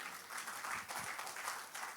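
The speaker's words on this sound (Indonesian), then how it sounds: "Saudara mau tepuk tangan bagi Yesus?" A church congregation at a Sunday service claps together in a brief, dense burst of applause that sounds moderately close and holds steady for about two seconds.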